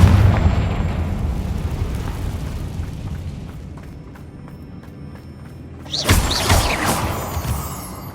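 A Confringo fire-blast spell erupts in the Hogwarts Legacy game, with a loud rumbling burst at the start that fades into a quiet stretch, then a second sharp, bright explosive whoosh near the end.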